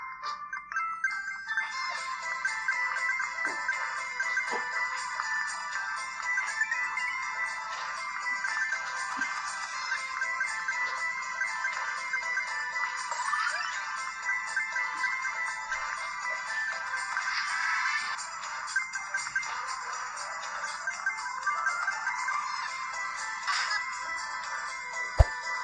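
Subway Surfers mobile game sounds play continuously from an Asus Zenfone Lite L1 smartphone, a steady bright mix of music and chiming effects at moderate, even loudness with no talking.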